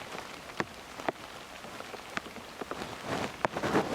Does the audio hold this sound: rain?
yes